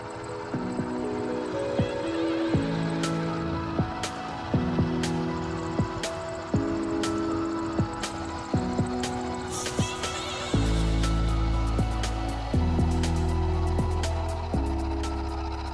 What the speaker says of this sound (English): The next step is to machine the block to final length, once again on the mill using a roughing end mill.